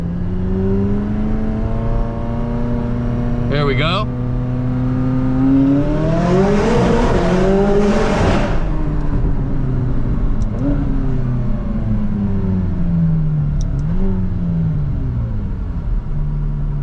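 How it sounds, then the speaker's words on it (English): A McLaren supercar engine revs hard and roars, echoing loudly inside a tunnel, climbing then falling; a voice briefly speaks. "let's see if we can get a little tunnel rip, the infamous tunnel rips"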